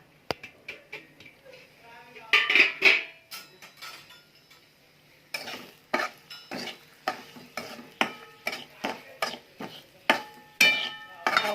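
Semolina roasting in hot ghee for jaggery shira, stirred with a spoon that scrapes and taps the pan in quick irregular strokes over a soft low sizzle, close and clear.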